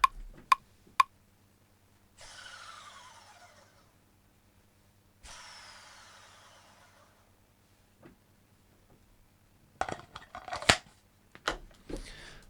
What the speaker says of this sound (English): Pair of scissors, like so.